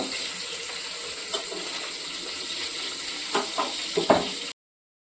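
Pabda fish fry in a pan with an even, watery hiss of hot oil, a few louder crackles and utensil taps near the end, then the sound cuts to silence.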